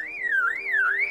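A lyrebird imitating a car alarm: a loud, clear warbling tone sweeping up and down in a smooth repeating wail, close and alone.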